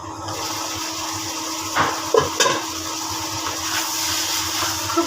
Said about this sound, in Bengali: আদা রসুনটা খুব সুন্দর তেলের উপরে ভাজা ভাজা হয়ে গেছে, এখন আমি মিশিয়ে নিব, খুব সুন্দর করে কষিয়ে নিব।